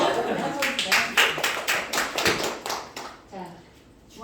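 Students in a classroom clap in a quick, fairly regular burst of sharp hand claps that thins out toward the end, with voices chattering over and between the claps.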